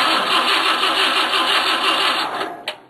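Cold start of a Versatile 400 tractor engine: a steady, loud, close cranking-and-running drone that holds evenly for over two seconds, then tapers off with a brief final burst near the end.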